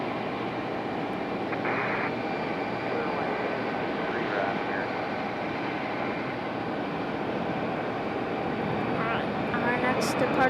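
A United Express jet departs Raleigh Durham airport with a continuous loud engine roar spread across a broad band, steady from start to finish, with faint talk and brief distant sounds over the top.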